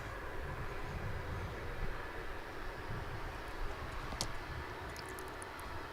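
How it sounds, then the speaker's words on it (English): A Boeing 757 taxiing in to its gate at DFW airport, a steady, moderately distant engine rumble and broadband whine holding even throughout with no talk. "Here comes the 757. Generally just pulls right in there into its slot."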